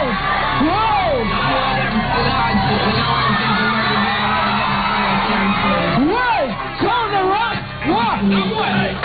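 A live concert crowd roars and whoops for a Nigerian singer, a loud, sustained wall of cheering with rising shouts and yells, close and continuous throughout.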